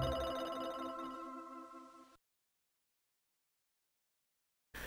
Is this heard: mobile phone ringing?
yes